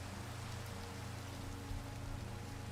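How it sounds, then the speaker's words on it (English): Steady Minecraft rain pours without letup, a dense, even hiss of falling water with a low rumble beneath it, alone with no voices. "Ah, it's raining. It's raining."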